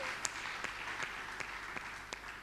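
Church congregation applauding, a steady dense patter of many hands clapping at moderate loudness with a few sharper individual claps standing out.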